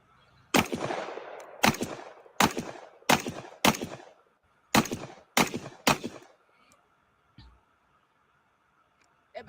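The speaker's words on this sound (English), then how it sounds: "Again, AK style shotgun, 12 gauge." Seven loud, sharp shotgun blasts from a 12 gauge AK-style shotgun with a 12-inch barrel at an outdoor range, fired in a fairly steady rhythm about a second apart, each with a short ringing decay, before the firing stops.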